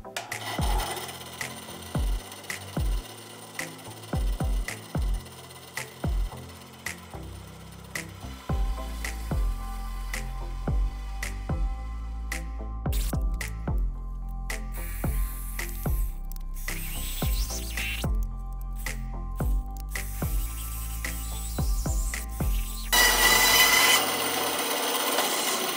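Hand saw fitted with a new, thicker blade cutting wood for a ballcap hat rack, a series of sharp rasping strokes that stutter early and then run into longer, steadier cutting, close and alone.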